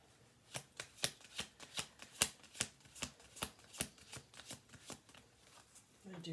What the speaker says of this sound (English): I'm going to do 2 more shuffle throughs on this.